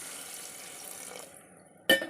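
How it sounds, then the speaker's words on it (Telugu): Water pours into a pan of brinjal and dry fish curry with a soft, trickling splash. The pouring fades to near quiet, then a sudden sharp clink of metal on the pan follows. "ఇప్పుడు కొంచెం నీళ్లు పోసి"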